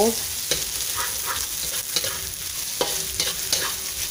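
Onions frying in a pan for chicken caldereta, a dense continuous sizzle with occasional stirring scrapes and taps, close and steady with no talking.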